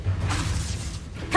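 A Reductor spell blast in Hogwarts Legacy, heard as a short, dense whooshing burst with a low rumbling body that swells at the very end of a brief moment.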